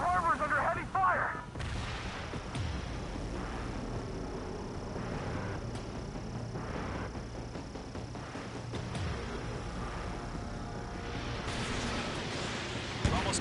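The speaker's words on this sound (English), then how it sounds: "The harbor is under heavy fire!" Heavy artillery fire pounds a harbor in the Ace Combat 7 video game, a steady rumble of booming impacts with a sharper blast at the start, under radio chatter and a droning engine.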